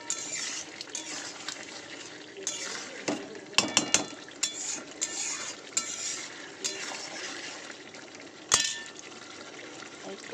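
Spice paste for a Bengali fish curry sizzles and gets stirred in an oiled pan, with a steady frying hiss broken by scraping strokes and a few sharp clinks of a utensil against metal, close and without talk.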